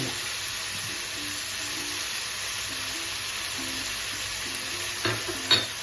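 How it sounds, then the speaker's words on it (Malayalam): Prawn pulao masala with tomato, coriander and mint sizzles steadily in a pan while being stirred, a continuous close frying hiss with a few louder scrapes of the spoon near the end; no one speaks. "കുറച്ച് സമയം ഇങ്ങനെ ഇളക്കി വെച്ച് മസാല കുറച്ച് ആയി വന്നാൽ"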